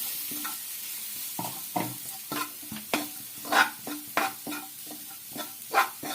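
Clam meat fries with curry leaves and a coconut spice mixture in a pan for a Kerala clam roast, with a steady sizzle broken by repeated rhythmic scraping strokes of a spoon, close and moderately loud.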